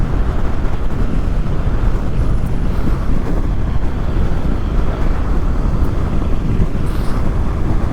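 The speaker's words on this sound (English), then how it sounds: "Now, it's quite windy at the moment," Heavy wind roars across the microphone of a rider on a Honda NC750XA motorcycle on a windy day, a loud, constant low buffeting rumble with no talk.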